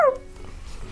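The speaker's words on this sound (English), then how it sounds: "The puppy barked." A single short, high-pitched puppy yelp at the very start, then quiet low rumbling background.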